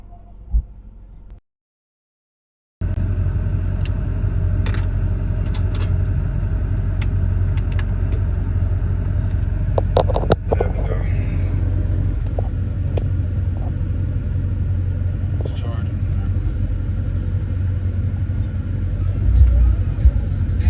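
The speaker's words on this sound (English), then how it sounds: "this traffic is wild" Road traffic rumbles steadily in a continuous low, heavy drone of passing cars, broken only by a brief silent gap near the start.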